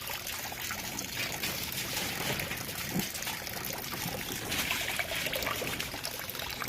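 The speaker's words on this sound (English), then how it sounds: "This right here is just a straight pump for water flow to help with the fish." Water from a pump trickles and pours continuously into a fish setup in a greenhouse, a soft steady splashing flow with no voices.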